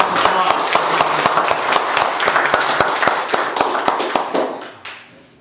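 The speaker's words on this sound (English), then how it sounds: "give our military a round of applause." A church congregation at a Veterans Day service claps for the military, a dense run of hand claps that rings out steadily for about four seconds and then fades.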